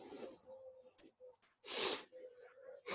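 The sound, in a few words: sniffles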